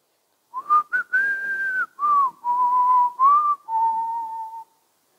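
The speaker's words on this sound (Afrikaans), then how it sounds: "En almal fluit saam." A clear, melodic whistle rings out in a church, a single whistled tune of held notes and short phrases, near and alone, with no talking.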